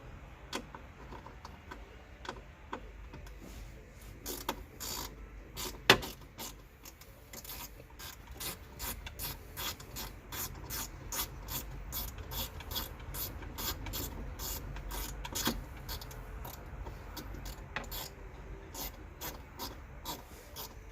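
A 7mm ratchet loosening a bolt inside a Chevrolet S10 Blazer LS, with a long run of quiet, rapid clicking pawl ticks, close and faint, and one sharper knock partway through.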